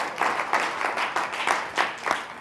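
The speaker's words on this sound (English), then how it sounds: "a round of applause for these people" A round of applause from the audience at a 2010 ACA keynote, with moderately close hand claps rising and falling in a steady, even texture for a few seconds and no voices over it.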